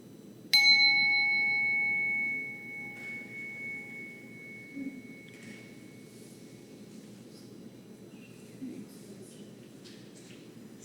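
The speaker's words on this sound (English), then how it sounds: "we're going to use the sound of the bell to transition out of the meditation" A meditation bell struck once to close a mindfulness session, ringing with a clear sustained tone that fades over a couple of seconds, faint room hush lingering afterward.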